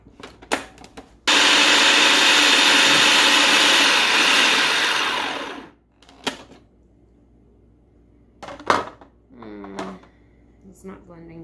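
Hand mixer with a whisk attachment whirring loudly through homemade mayonnaise, a steady high-pitched motor drone of about four seconds that dies down. Brief clinks and a person talking come before and after it.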